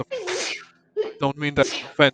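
A person at a tabletop Dungeons & Dragons session lets out one sharp sneeze, quickly followed by close, clear speech from a man.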